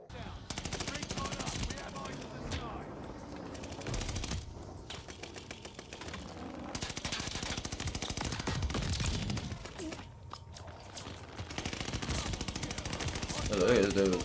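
Long rapid bursts of DP-27 light machine gun fire in a Call of Duty match, sharp fast rattling volleys that run almost continuously with brief pauses, loud and close, with a player talking over parts of it.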